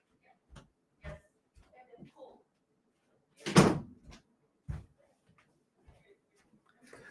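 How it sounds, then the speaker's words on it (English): An indoor door shuts with one sharp, fairly loud thump in the middle, surrounded by faint scattered knocks and handling sounds in a quiet room, and a voice briefly heard. "So I'm gonna close the door."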